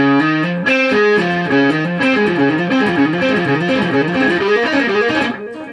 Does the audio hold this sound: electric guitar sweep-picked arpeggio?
yes